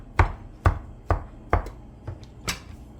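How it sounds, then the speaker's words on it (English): A knife finely minces juicy pineapple on a cutting board in six crisp, evenly spaced chops that come close and clear. "you're gonna mince the pineapple"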